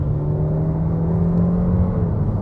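Steady engine whir from a 2022 Suzuki Vitara with a 1.4-litre turbo and manual gearbox, accelerating from inside the cabin, even and continuous throughout.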